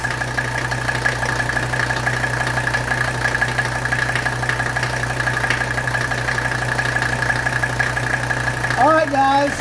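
A 1985 wagon's engine idles steadily after a slow start, a constant mid-pitched hum with faint knocking, loud and close, before a brief shift at the end.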